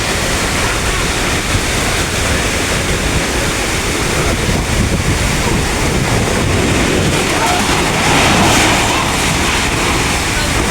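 Strong, roaring typhoon wind blasts constantly against the microphone, a dense loud rush that swells near the end with no break, in Sariaya, Quezon.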